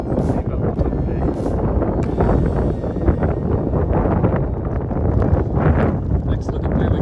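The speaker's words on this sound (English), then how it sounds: "This wet and windy day down here." Strong, steady wind batters the microphone along an exposed mountain trail near a ridge on a wet, rainy day, a continuous close roar with gusts swelling and easing throughout.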